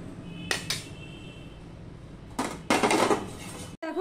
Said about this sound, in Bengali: দেখো কড়াই বসিয়ে দিয়েছি